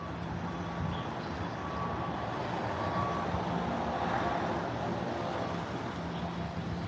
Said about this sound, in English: I can hear his car.